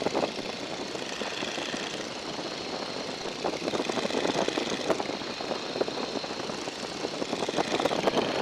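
A Boeing Stearman biplane's radial engine throttled back to about 1750 rpm in flight: a steady, rough, throbbing drone with a gritty pulse and wind rush, moderately loud and continuous, without talk.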